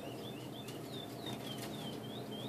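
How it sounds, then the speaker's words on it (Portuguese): A flock of around sixteen young songbirds, all fledglings, chirps in rising and falling tweets over a steady dense background of rustling and fluttering. The calls repeat every fraction of a second, close by and fairly faint. "Deve ter uns 16 passarinhos aqui. É tudo filhote."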